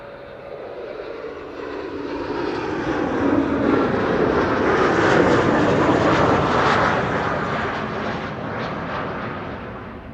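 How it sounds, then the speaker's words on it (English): A KLM Embraer 190 jet arrives at Amsterdam Schiphol from Cardiff, its engine roar building steadily to a loud, broad peak mid-pass before fading gradually, with no talk over it. "KLM flight 1088 arriving from Cardiff, Embraer 190"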